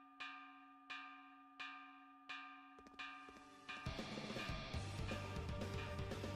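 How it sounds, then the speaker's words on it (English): Warning bell tolling in Ys IX: Monstrum Nox, four evenly spaced loud strikes with ringing decay, then a denser clanging swell as game music and effects build beneath. "That sound? It's the warning bell."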